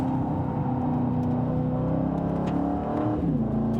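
An Aston Martin Vantage pulls hard at very high speed on a track, its engine a loud, steady roar that climbs through the revs with a brief dip near the end, heard close and alone.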